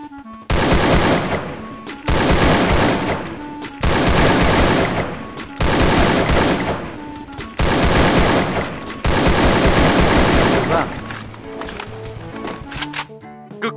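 Long bursts of AK47 automatic fire in the mobile shooter game Garena Free Fire, five or six sustained volleys separated by short pauses, loud and dense, ending with scattered shots and game effects.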